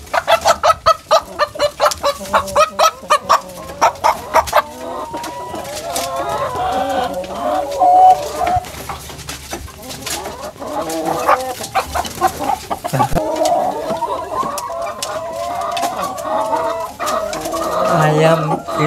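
Clucking from chickens at a farm where green junglefowl are mated with village hens, steady and fairly close, with sharp rhythmic clucks early on and continued calls throughout, and voices talking underneath.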